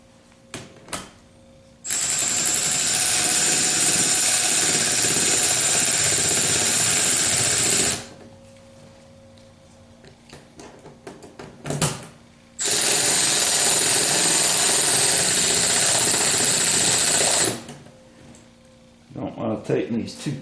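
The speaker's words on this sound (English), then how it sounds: "Tighten these too tight with the power wrench if they're not threaded right, or even if they are." A power wrench tightens screws on a Holley in-tank fuel pump during a 1976 Corvette restomod, two sustained loud whirring runs of several seconds each, separated by quieter handling clicks and short knocks.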